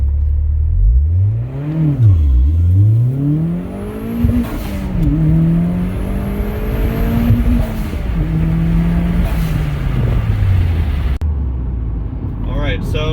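A Gen 4 Toyota MR2 with a turbocharged 3SGTE engine launches hard, heard from inside the car. The engine revs rise and fall through several gear changes, close and loud, with faint talk in places.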